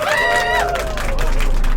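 Small twin children clap their hands in a short, close burst of claps right after a voice, with faint room noise underneath.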